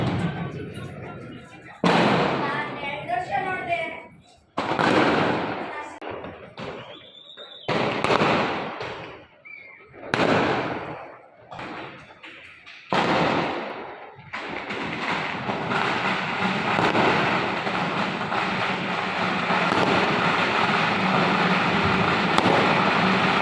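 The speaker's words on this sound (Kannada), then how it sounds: "ಇನ್ನು ಆಚೆ ಫುಲ್ಲು ಪಟಾಕಿ ಸೌಂಡು, ಆಚೆ ಪಟಾಕಿ ಸೌಂಡು." Firecrackers burst outdoors in celebration after an RCB cricket win, repeated loud crackling salvos and bangs, with someone talking between them and a continuous stream of distant popping later.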